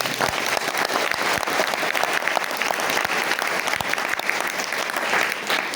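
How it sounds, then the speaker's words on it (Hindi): Loud, dense audience applause at a youth festival event fills the whole stretch, steady and sustained with crisp overlapping claps throughout and no talking. "एक बार फिर से बहुत जोरदार ताली बजाइए"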